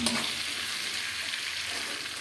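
Mutton frying with a generous dose of Kashmiri chili, for biryani, being stirred in the pan: a steady, dense sizzle fills the whole stretch, with soft stirring scrapes at the start.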